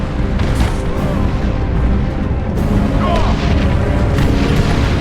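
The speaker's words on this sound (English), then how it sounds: "Damn mortar battery!" Heavy booming mortar-battery explosions rumble in the Warhammer 40,000: Dawn of War 2 video game, loud and continuous, with repeated blasts layered over battle noise.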